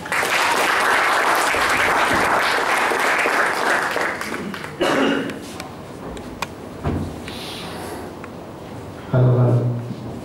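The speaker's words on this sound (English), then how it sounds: "a round of applause for him," An audience at an IdeaKon 2014 talk gives a speaker a round of applause, dense clapping for about five seconds that thins out, followed by scattered rustles, knocks and handling noises.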